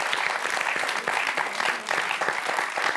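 Studio audience of the quiz show Questions pour un champion applauds a contestant, a brisk, dense burst of many hands clapping evenly and steadily at moderate distance.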